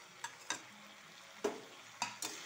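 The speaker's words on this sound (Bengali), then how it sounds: "মশলাটা ভালো করে সাঁতলাতে হবে, কাঁচা গন্ধ করতে নেই" Ground coriander and cumin paste with green chilies sautéing in a pan, a soft low sizzle broken by several sharp utensil scrapes and taps spaced irregularly, no voices.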